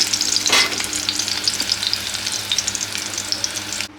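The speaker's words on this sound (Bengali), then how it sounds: "পেঁয়াজ আর ক্যাপসিকাম লাল লাল করে ভেজে নিয়েছি" Onions and capsicum frying in hot oil give a steady, close, loud sizzle with stirring scrapes, unbroken for the whole stretch with no talking.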